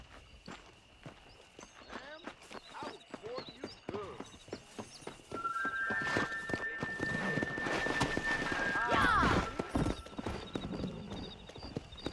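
Horse hooves clip-clop at a walk, then break into a quicker run with a whinny in Red Dead Redemption, with game voices talking over the steady hoofbeats and rising gallop.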